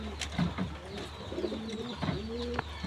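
Pigeons give several soft, low coos in quick succession, fairly quiet and close, over faint background noise.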